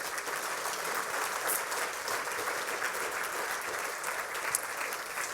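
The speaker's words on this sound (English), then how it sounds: "Give them another round of applause." Sustained applause from a morning audience at a sports hall of fame induction ceremony, a dense steady wash of many hands clapping throughout, with no talk over it.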